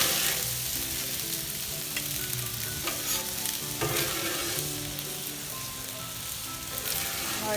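Chicken and rice for kung pao stir-fried on a griddle pan outdoors, a loud steady sizzle with intermittent scraping and tossing of the spatula, close by and without talking.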